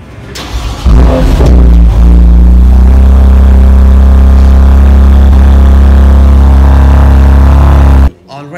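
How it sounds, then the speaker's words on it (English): A 2019 BMW M2 Competition fires up through its dual exhaust pipes, a loud close start with a sharp rev burst settling into a deep, steady idle burble before cutting off abruptly. "let's start at the back with the dual exhaust pipes on it. These sound magnificent."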